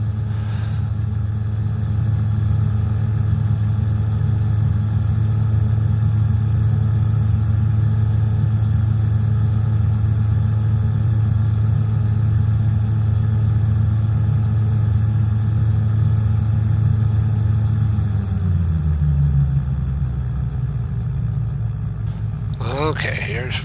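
A gyroplane engine in the X-Plane 10 flight simulator drones loud and steady for most of the stretch, then drops to a lower, softer hum as the throttle is pulled back near the end.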